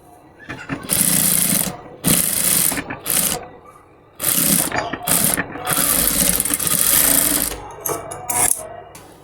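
A sewing machine runs in bursts while top-stitching lace onto a salwar leg hem, its fast whirring stitch racing for a second or two and then stopping. The bursts are close and loud, with short pauses between them.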